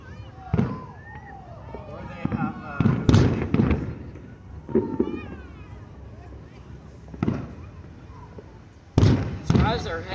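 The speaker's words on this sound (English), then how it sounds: "Athens, Tennessee fireworks." Fireworks explode at a July 4, 2023 display in Athens, Tennessee, a series of irregular booms and crackling bursts, some loud and close, while people talk nearby throughout.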